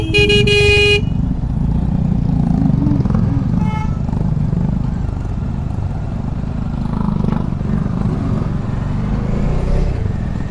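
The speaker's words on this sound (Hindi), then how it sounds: "अरे भाई यहाँ कैसे जाम लगा दिया इन्होंने" Dense traffic jammed at a highway toll plaza on a ride from Delhi to Salasar, with car and motorcycle engines rumbling steadily and a loud horn blast at the start, then scattered shorter toots through the crowded queue.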